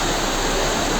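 At the top of Khoiyachora waterfall, water rushes in a continuous, dense roar heard up close with no voices.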